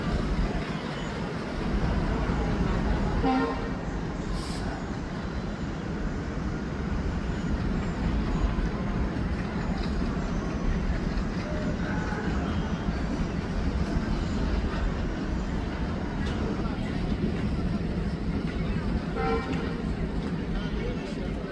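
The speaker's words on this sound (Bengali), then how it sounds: "ট্রেন চলে যাচ্ছে আমাদের আবার সেই নাটোরের" A train rolls steadily through Natore railway station, a continuous rumble with faint clickety-clack of the carriages lasting throughout, while people talk over it.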